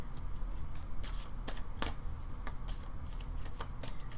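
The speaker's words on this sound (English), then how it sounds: "I'm going to pull 3 cards for you." Tarot cards are shuffled by hand up close, with a string of crisp riffling snaps and slaps in quick bursts, loud and clear, with no talking.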